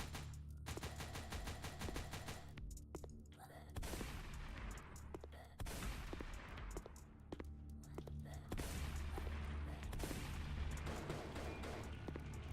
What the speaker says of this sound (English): I think I picked up another machine gun.